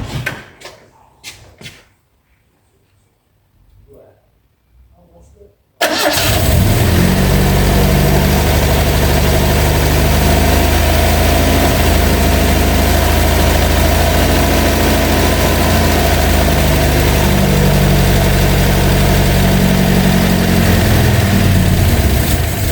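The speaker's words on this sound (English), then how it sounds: "I've got to admit that engine sounded pretty good as well" A car engine left sitting in a garage for 37 years cranks with a few uneven chugs, then fires and settles into a loud, steady idle that runs evenly for the rest of the clip.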